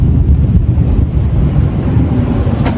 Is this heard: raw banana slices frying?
no